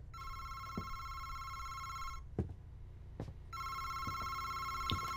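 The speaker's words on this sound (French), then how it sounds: "il y a un téléphone qui sonne depuis 8 heures là" A telephone rings repeatedly in a video game scene, steady electronic ring bursts with a short pause between them, fairly close, accompanied by a few faint knocks and thuds.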